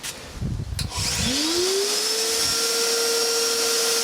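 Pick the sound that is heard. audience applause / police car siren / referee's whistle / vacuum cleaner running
vacuum cleaner running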